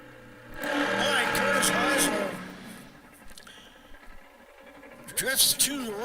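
A nitro drag racing car launches hard down the strip at an AMRA Nitro Nationals meet in Michigan, a loud broadband roar for about two seconds that fades quickly, with crowd noise and a brief rise near the end.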